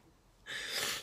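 A man gives a single sharp sneeze, a sudden close burst of breath after a quiet moment, standing alone with no talk.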